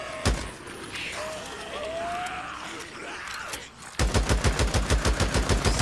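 Rapid bursts of gunfire in the video game Days Gone, a steady run of sharp evenly spaced shots that grows louder and denser after a quieter stretch of rumbling effects.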